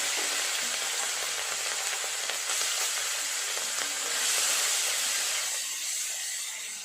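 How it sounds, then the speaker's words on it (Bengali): Prawns fry in a pan with a steady, bright sizzle and crackle of hot oil, close and continuous, swelling slightly midway before easing off, with no talking. "চিংড়ি মাছগুলো ভেজে নেব"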